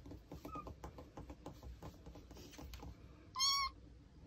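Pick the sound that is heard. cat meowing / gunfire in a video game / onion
cat meowing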